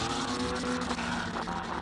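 A Lola race car runs at the SIMOLA hill climb, its engine note droning steadily and loudly with a sustained tonal whine and slight shifts in pitch, heard up close without speech.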